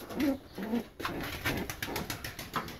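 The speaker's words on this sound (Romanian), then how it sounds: "haideți că prind și eu pescărușii și bag la loc" Gull chicks being handled give a few soft, close calls, mixed with rustling and scuffling from handling as the birds are caught and put back.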